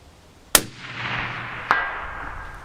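A Ruger American rifle fires one sharp, loud crack outdoors during night hunting, and the report rings out and decays. A fainter second crack follows about a second later.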